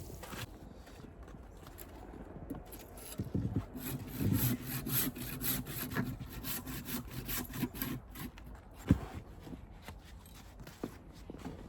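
Notches being sawn into a log for a shelter bed in a -20 degree bushcraft camp, with rhythmic back-and-forth saw strokes on wood rasping close by, steady then pausing with a sharp knock near the end.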